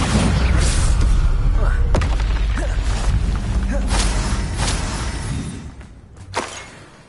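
A Bombarda blasting spell goes off in the Hogwarts Legacy video game, a loud booming explosion with thuds and debris crashes over continuous game noise, with a sharp blast near the end.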